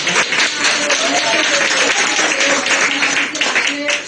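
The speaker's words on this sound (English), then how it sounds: "So shall we give a round of applause for Teacher Holly?" Audience applause at a Philippines Amway business meeting for a guest teacher, a dense steady wash of many hands clapping close and loud throughout, with voices mixed into the crowd noise.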